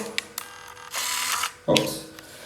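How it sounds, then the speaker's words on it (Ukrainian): Faint mechanical whirring and clicking from a Canon PowerShot A480 digital camera, with short bursts of motor buzz and a louder click near the end. "чуєте, камера така шумна"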